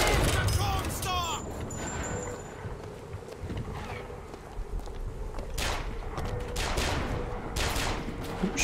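Gunfire in the BioShock Infinite game, a dense spread of sharp shots and bursts over a busy game soundscape, with talk alongside and fairly loud throughout.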